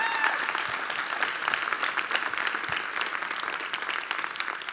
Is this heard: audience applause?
yes